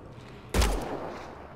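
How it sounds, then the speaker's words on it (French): Gunfire in the video game Mass Effect Andromeda: a single loud, close blast erupts suddenly after a quiet moment, then rolls off into a decaying rumble over about a second, with no talking. "Ok, ça tire."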